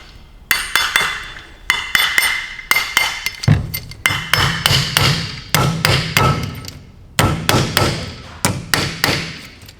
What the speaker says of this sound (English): tap the lid into place.